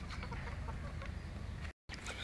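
A hen on a Tamil poultry farm clucks in a quick run of short, close calls over a low background, followed by a brief dropout and then a few more clucks; no one speaks.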